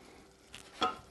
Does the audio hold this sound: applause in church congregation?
no